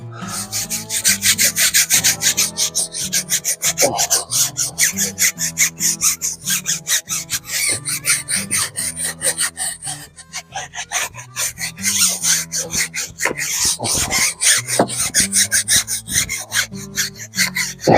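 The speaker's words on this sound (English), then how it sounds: "That noise would be me trailing the bucket across the ground" A plastic bucket is dragged across the ground outdoors near a car, giving a loud, continuous scraping rasp made of rapid gritty pulses with brief pauses.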